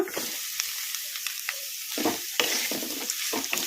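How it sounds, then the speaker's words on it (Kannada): Onions sizzling and frying in a pan with green chillies and curry leaves over a medium flame, a steady close hiss broken by periodic scraping stirs, with no talking. "ಈ ಥರ ಮೀಡಿಯಮ್ ಫ್ಲೇಮಲ್ಲಿ ಕಲಿಸ್ಕೊಂತ ಫ್ರೈ ಮಾಡ್ಕೋಬೇಕು"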